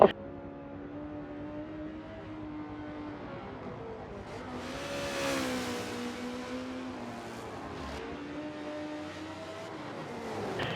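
A bullet-shaped Maserati race car accelerates down the straight of the old-school Nürburgring, its engine note climbing steadily, peaking as it passes, then settling into a sustained drone at moderate distance.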